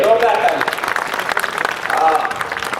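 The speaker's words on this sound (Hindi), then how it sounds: "एक बार और ताली बजा के आदेशित करिए" A crowd at a Hindi humorous poetry gathering in Sirsaganj claps continuously for a few seconds, with talk mixed in over the applause.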